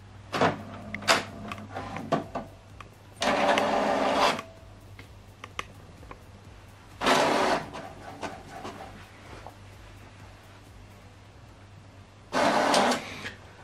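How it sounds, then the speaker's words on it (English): An HP Deskjet 4100 printer prints a document: three loud mechanical bursts of a few seconds each, with quieter clicks and whirs between them and a steady low hum underneath. "Now this document is going to print."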